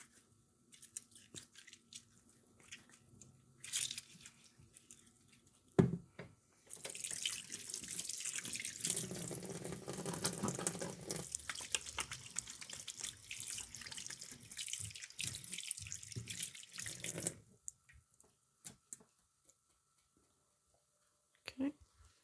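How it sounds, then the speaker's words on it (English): Hands rinsed under a running kitchen tap while preparing hake in tomato sauce: water gushes into the sink for about ten seconds, flanked by quieter clatter and brief speech before and after. "I'm just going to rinse my hand off."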